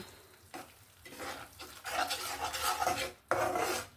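Stirring whisked yogurt into a fish curry in a pan on a low gas flame, the spoon scraping and swishing through the thick sauce in steady strokes, close and fairly loud with a faint sizzle, no voices.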